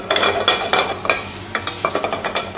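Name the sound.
sautéing garlic and onions in oil in a pot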